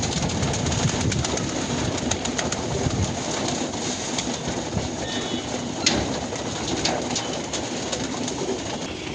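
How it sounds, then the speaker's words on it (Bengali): Pigeons coo steadily at feeding time, adults and young together in a cramped loft, a dense low murmur of overlapping calls running continuously at moderate level with faint background clatter. "কবুতরগুলোকে খাবার দিলাম।"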